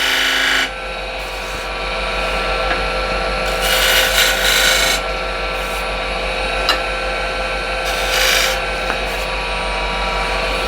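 A woodturning scraper cuts wood spinning on a lathe, giving a steady rasping hiss with several louder scraping passes against the constant hum of the machine.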